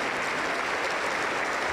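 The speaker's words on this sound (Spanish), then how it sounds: "Aplauso para el Señor Jesús" Dense, steady applause from a church congregation after a Spanish-language sermon prayer, a broad even wash of many hands clapping with no speech over it.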